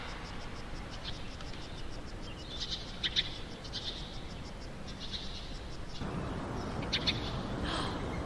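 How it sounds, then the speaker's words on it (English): Ambient birdsong over a low continuous rumble in the life-sim game Paralives, with steady chirps and calls repeating through the clip against a constant dull background roar. "Birds and rumble."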